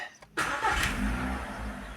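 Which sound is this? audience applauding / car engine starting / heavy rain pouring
car engine starting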